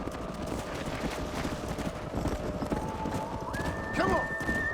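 Horses in the Red Dead Redemption video game clip-clop steadily at close range, with a whinny near the end over ambient game sound and occasional voices.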